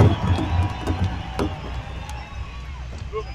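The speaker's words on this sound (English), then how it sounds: "How about a round of applause, Albuquerque?" A crowd cheers and claps at a powwow grand entry in Albuquerque, with scattered whoops and shouts and bursts of clapping that are loudest at first and then fade into a murmur.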